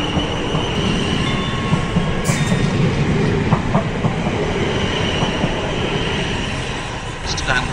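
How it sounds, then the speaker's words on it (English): A non-stopping train rumbles steadily through Wandsworth Town station at close range, with a continuous roar of wheels on rails and occasional faint metallic squeals. "The approaching train is not scheduled to stop at this station."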